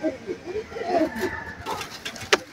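A cobra pigeon cooing in soft, low repeated phrases, fairly close but quiet, with a faint voice and a brief sharp tap near the end.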